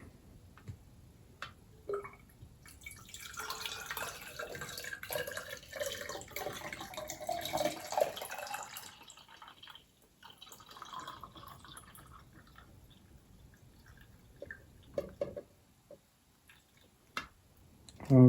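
Water pours through a funnel into a PC water-cooling loop, a soft trickling and gurgling fill that runs for several seconds, faint and close, followed by quieter drips and small clicks.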